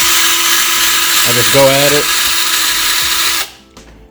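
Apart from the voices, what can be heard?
drill with brass brush cleaning an engine block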